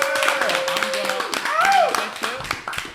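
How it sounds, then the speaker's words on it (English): A studio audience on a dating show claps for a green flag, a quick scattered patter of hands mixed with raised voices and chatter that stay prominent over the clapping. "Clap it up for a green flag that these two real ones have worked it out"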